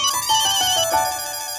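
A melodic electronic ringtone plays loud and close, a repeating tone pattern that fades out near the end.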